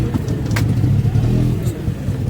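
An auto rickshaw engine drones steadily from inside while riding, a loud low rumble with rattling and a few faint higher clatters over the top.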